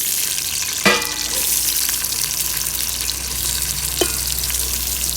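Onions for ghee rice fry in a pan with a loud, continuous sizzle close by, broken by two sharp knocks of a utensil against the pan, with no speech.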